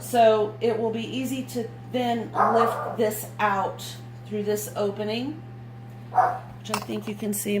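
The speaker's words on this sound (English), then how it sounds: "Sorry for the pug barking" A pug barks in short repeated yips and woofs close by, overlapping a person talking, with a steady low hum underneath.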